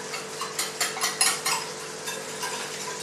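A utensil scrapes and clinks around a bowl while a yellow curry chicken tart filling with egg is mixed, giving irregular bursts of stirring that are close and moderately loud and then tail off into softer scraping.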